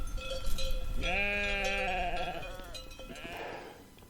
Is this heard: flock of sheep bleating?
yes